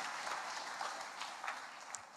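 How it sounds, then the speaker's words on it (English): Audience at a church sermon applauding, a soft, fairly distant patter of many hands clapping steadily for a couple of seconds. "Give her a big hand, a round of applause"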